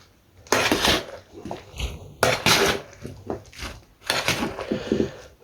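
A spoon stirs fruit salad with black raisins in a bowl, giving several bursts of clinking and scraping against the bowl with short pauses between them. There is no speech.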